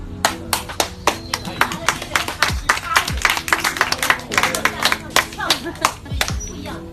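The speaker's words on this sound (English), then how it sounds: "Applause for the alligator." An audience at an alligator show on an airboat tour claps steadily in a sparse, uneven patter, loud and near, with individual hand claps standing out.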